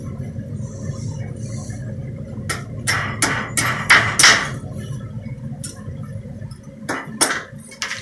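A fire assay gold bead is hammered to knock green silica slag off it, giving a few close, sharp taps in a short cluster over a steady low background hum.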